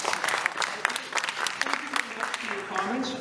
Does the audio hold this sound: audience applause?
yes